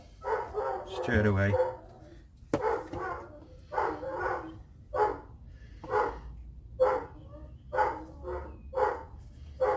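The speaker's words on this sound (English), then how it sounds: "You can hear the dog in the background" A large Doberman barks repeatedly in a steady rhythm in the background, while a person talks briefly at the start.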